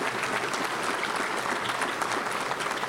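Steady crowd applause from an audience at a Little Rock Touchdown Club luncheon, dense clapping filling the room without pause or voices.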